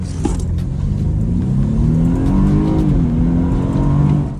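A decade-old BMW launching hard with launch control: a loud, close engine revving up through one gear, briefly dipping at a shift, then climbing again steadily.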